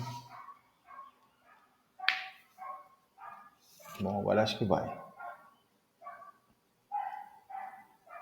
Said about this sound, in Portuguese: Tem um cachorro latindo a beça aí